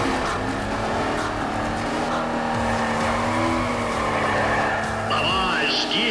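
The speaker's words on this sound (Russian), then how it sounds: "Кэрол уже разогревает покрышки своего мустанга" A Mustang spins its tires before a drag race in Need for Speed ProStreet, the engine droning loud and steady with tire squeal and rising revs. Talk runs over the car sound.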